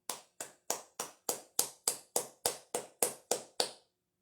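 A single person claps twelve times in a slow, even rhythm, each sharp clap close and clear, ending in silence.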